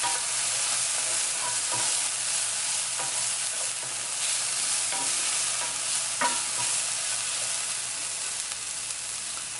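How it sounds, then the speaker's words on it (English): Jalapeno sizzling in a frying pan while being stirred, a steady bright hiss of frying with occasional soft scrapes and taps of the utensil against the pan, constant and close with no talk. "So, keep stirring."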